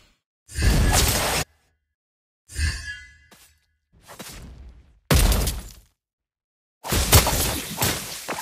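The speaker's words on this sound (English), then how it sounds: "Your team destroyed a turret!" Turret destruction in the Mobile Legends: Bang Bang mobile game, with loud crashing, shattering bursts and whooshes separated by short silences, no voices.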